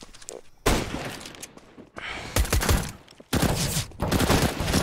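Rapid gunfire from a Counter-Strike match on Dust2, including a USP pistol headshot, dense loud bursts and shots overlapping with game noise.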